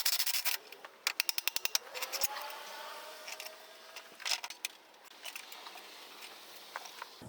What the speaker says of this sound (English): Now we're going to remove the rear wheel.